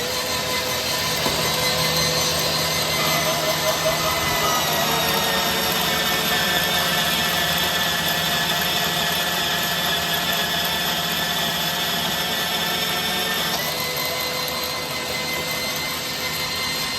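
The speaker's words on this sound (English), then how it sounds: "gotta cut these bolts down" A power tool cutting down steel bolts while building a welded tire chain hanger, a loud continuous whining grind that holds steady for the whole span, with a slight change in pitch near the end.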